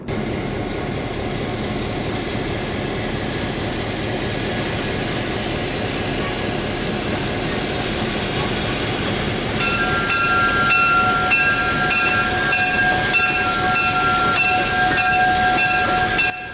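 A saddle tank steam locomotive rumbles and chuffs steadily nearby at the Florida Railroad Museum in Parrish, Florida, with a continuous mechanical roar and high metallic squeals joining in toward the end.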